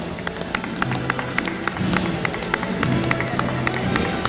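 Audience applauding at the closing ceremony of the International Film Festival of India 2022, a steady patter of many hands clapping, with a low hum and some murmur underneath.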